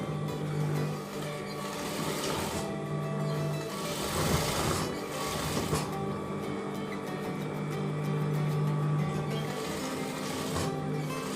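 A sewing machine stitching the pieces of a Johnny collar, its motor humming steadily at close range with a continuous rapid needle chatter and slight shifts in pitch as the speed changes.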